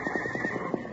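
Horses neighing during a bandits' rest stop in an old radio-style Western adventure, with a series of rhythmic, repeated whinny pulses spread across a second, fairly close and steady.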